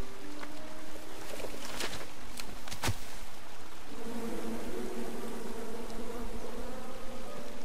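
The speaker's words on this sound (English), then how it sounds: "And then you chop down the tree full of angry bees?" Angry bees buzzing from a tree in the King's Quest video game: a steady, dense insect drone throughout, with a few sharp clicks and a low hum joining midway, no talk.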